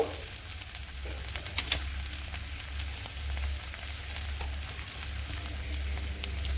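Chicken curry with new potatoes frying in a pan with turmeric and salt, a continuous close sizzle with scraping stir strokes and a low steady hum underneath, no talking.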